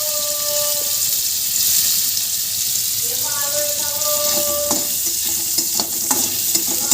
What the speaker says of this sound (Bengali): আদাগুলো একটুখানি ভাজা ভাজা হবে তারপরে কাঁচা লঙ্কাটা দিয়ে দেবো